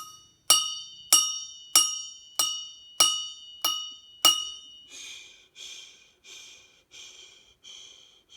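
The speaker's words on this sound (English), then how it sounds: "I'm going to play it on my wonderful cup." A cup is tapped in a steady counted rhythm exercise: seven sharp, ringing glassy strikes at even spacing, followed by several softer, duller taps that trail off, with no voices.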